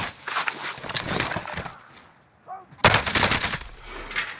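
Gunfire rattles in Call of Duty Warzone in two loud, dense bursts of rapid shots, separated by a short lull with a faint metallic ring.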